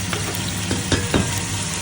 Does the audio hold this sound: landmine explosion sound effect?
no